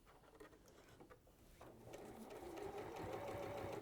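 Sewing machine stitching fabric during a sewing demonstration, a steady mechanical whirr that starts softly and runs continuously louder from the middle onward, with no talk over it.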